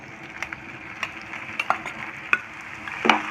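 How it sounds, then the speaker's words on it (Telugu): Squeezed soya chunks fry in a pan of hot oil, a soft continuous sizzle punctuated by several sharp crackling pops and spatters, heard close and alone without talk. "ఇప్పుడు ఇందులోకి పిండేసుకున్న సోయాని వేసుకుంటున్నాను"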